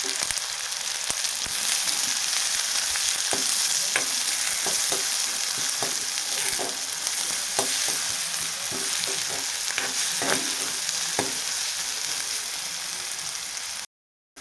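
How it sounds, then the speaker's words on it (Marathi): Chopped onion sautéing in a pan for a spicy soybean vegetable curry, a steady close sizzle and crackle with occasional scraping stirs of a spoon, continuous and loud until it cuts off abruptly. "त्यात आपण कांदा छान परतून घेऊया"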